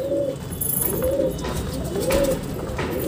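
Pigeons coo inside their box, soft repeated rolling calls at a regular pace, close and clear over a steady background hum.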